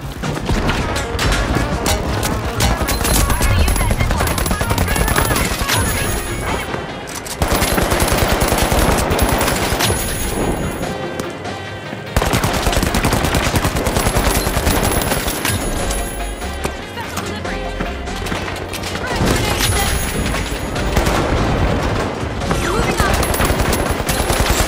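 Rapid, loud automatic gunfire bursts in the video game The Finals, dense and continuous with impacts and effects layered over game music, broken by a short lull midway.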